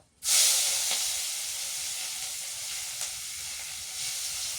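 Onions hitting hot oil in a pan for a mutton bhuna, a sudden loud hiss that settles into a constant steady sizzle with faint stirring, no talk.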